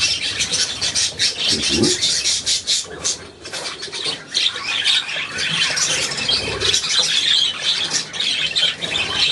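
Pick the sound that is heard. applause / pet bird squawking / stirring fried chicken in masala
pet bird squawking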